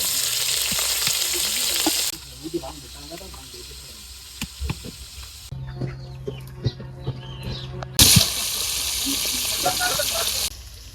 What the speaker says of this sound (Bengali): কড়াইতে তেল দিয়ে দিলাম, এখন আমি জলটোবাগুলো ভাজতে নেই।